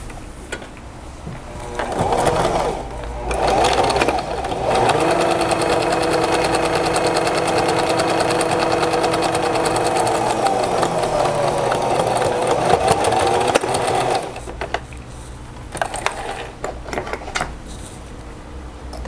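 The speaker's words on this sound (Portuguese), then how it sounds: "Agora, vamos costurar a parte de cima." Stitching along the top of a cotton dish towel, the sewing machine hums continuously and loudly for about twelve seconds, with handling clicks before and after the run.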